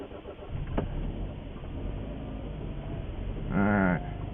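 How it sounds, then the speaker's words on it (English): A 2012 Hyundai with a faulty GDI high-pressure pump cold-starts roughly on a 15-degree morning, cranking then settling into an uneven idle; a brief tonal whine rises near the end. "I'm going to start the car, and this is a symptom"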